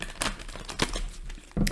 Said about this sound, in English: I don't know why I cannot shuffle cards today.